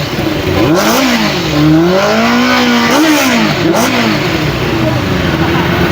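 A big Benelli motorcycle with twin exhausts revs repeatedly up and down close by, loud throaty surges rising and falling in pitch over a few seconds.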